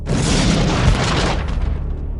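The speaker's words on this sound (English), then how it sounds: "the devastation caused by an explosion can be employed as a method of attack in itself" A bomb explosion: a loud, deep boom that hits at once and rolls on as a dense, sustained roar before tapering off near the end, with no voices.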